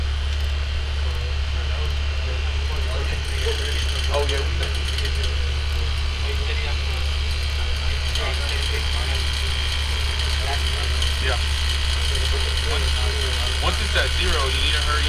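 An HVAC system runs steadily during a refrigerant pump down, with a constant low engine-like hum and vibration throughout and faint clatter over it.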